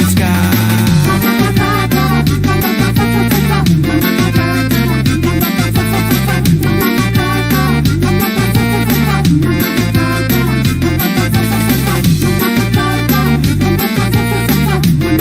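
Loud, steady instrumental music with a driving beat and regular bass pulses plays continuously throughout, with no voices.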